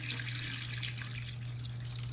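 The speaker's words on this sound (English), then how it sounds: "And they pour the water in here," Water is poured steadily into an antique wooden wagon wheel's tire, a soft, continuous splashing and trickling heard close up over a low hum.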